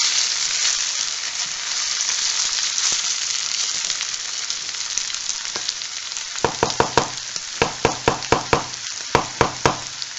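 Basmati rice grains frying in oil before stock is added: a steady close sizzle, then a run of regular scraping knocks as the grains are turned gently in the pan.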